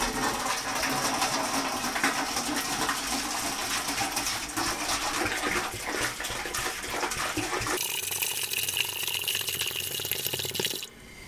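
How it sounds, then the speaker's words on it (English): Scalding hot water glugs and splashes as it is dumped out of a fermentation bottle, a continuous close rushing pour that changes character near the end before cutting off. "I must be careful not to burn my arms and hands while dumping out the scalding hot water"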